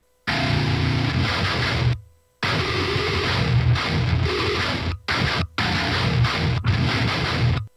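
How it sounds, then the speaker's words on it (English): Dense, loud, heavily distorted low-tuned metal guitar chugs in bursts with abrupt stops between, a thick compressed wall of low-end sound and no voices. "So super low, crazy and compressed sort of guitar tone."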